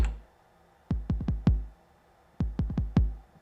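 A 909 drum machine kick pattern thumps in two quick bursts of booming, decaying hits, some louder and accented, separated by short gaps, with no other sounds.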